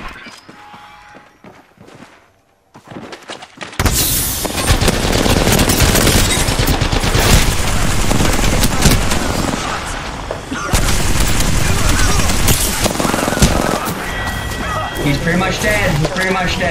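Loud, sustained automatic gunfire from Apex Legends starts after a quieter opening with some talk, then continues as heavy rapid bursts with impacts and footsteps, and voices are heard over the shooting.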